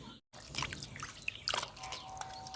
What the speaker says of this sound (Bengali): মাংসটা আমি দেখেন কাইটটা সুন্দর করে ধুয়ে নিচ্ছি